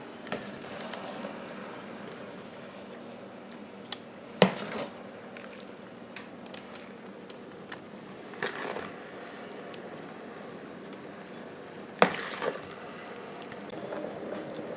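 A spoon scrapes and knocks around a pot of creamy kielbasa and potato soup with cream cheese, giving soft stirring swishes and a few sharp clinks against the pot's side, close up with no talking.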